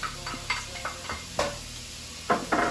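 Garlic and onions frying in a pan, a low sizzle broken by several sharp stirring scrapes and clacks at uneven intervals, close and fairly quiet, with no voices.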